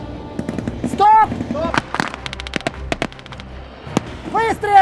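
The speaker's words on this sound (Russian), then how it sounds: "Выстрел!" Sharp gunshot-like bangs crack out repeatedly amid shouting voices, some close and loud, others quicker and scattered like rapid firing.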